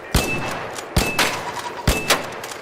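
Gunfire in the video game Arc Raiders: three sharp, loud shots spaced about a second apart, each with a short echoing tail over a steady game ambience.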